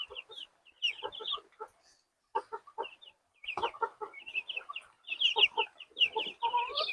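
Broiler chickens, a 45-day batch, cluck in bursts of overlapping calls with short pauses between, close and fairly loud, with no talk over them.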